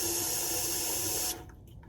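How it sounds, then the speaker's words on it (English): Water running steadily into a bong, filling it halfway with a loud, close hiss of flow that cuts off abruptly near the end. "it is recommended to fill it with water halfway"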